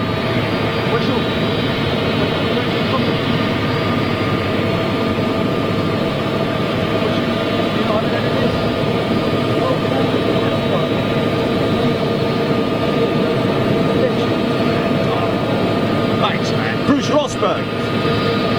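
A Qatar Airways jet departs Schiphol airport with a loud, continuous roar and broad engine rumble throughout, heard under ongoing talk.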